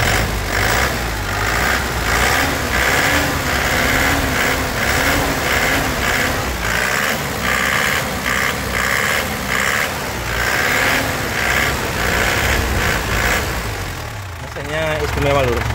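Black 2008 Toyota Grand Touring turbo engine, its exhaust held to a steady loud idle with repeated throttle blips, while people talk over it throughout and a voice rises near the end.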